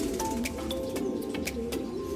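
Racing pigeons coo in a loft on a hot summer day, a low steady murmur of overlapping calls with a few brief chirps on top, close and continuous.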